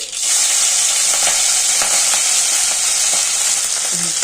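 Chopped green chillies sizzle in hot oil with cumin and chana dal for a tomato bath, a steady loud frying hiss with faint crackles throughout and no talking.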